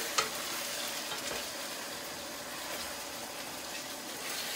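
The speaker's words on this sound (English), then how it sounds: "I'm just going to walk over and give my meat a stir" Meat frying in a pan gives a loud, dense, steady sizzle close up, with a brief clack of the utensil at the start as it is stirred, and no voices.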